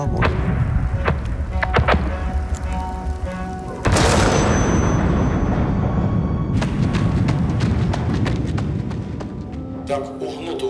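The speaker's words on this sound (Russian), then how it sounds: "Мы слышим взрывы и свист снаряда, которые пролетают прямо у нас над головой." Heavy booming artillery explosions thud repeatedly, with shells whistling overhead in a sustained rushing roar and sharp cracks; a voice speaks over part of it.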